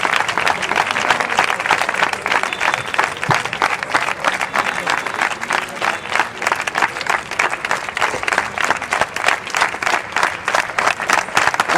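An audience at a Christmas public meeting claps steadily and loudly, a dense sustained round of applause filling the space without pause.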